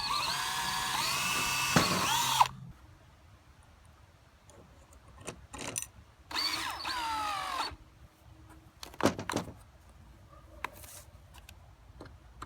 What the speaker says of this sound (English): then we'll pre-drill the hole.